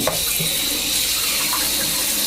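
Dirty fish tank water is dumped out over a sink while the gravel is rinsed, making a loud, steady rush of pouring and splashing water throughout.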